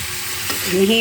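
Squid adobo sizzles and frying in a pan while being stirred, a steady close hiss that swells near the end, with faint voice-like tones rising over it.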